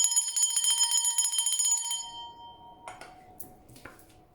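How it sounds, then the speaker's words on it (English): A handheld bell rings out bright and sustained for about two seconds, then a few softer metallic taps and rings follow as the tone fades, close and clear with no talking. "I'm going to ring the bell again for that 777 energy."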